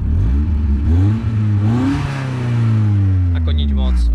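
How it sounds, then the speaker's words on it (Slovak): An Opel Calibra Turbo 4x4 revs hard, its engine note climbing and falling in strong sweeps with a droning, resonating exhaust, loud and close, with a voice briefly over it near the end. "Keby ste sa pýtali na zvuk tohto auta, tak zvuk tohto auta je akože vyfuk nič moc"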